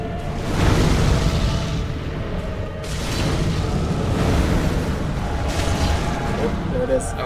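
Fiery demon blasts in Dark Souls 3 boom repeatedly, heavy rumbling bursts rolling under continuous loud battle noise, with a voice talking over them.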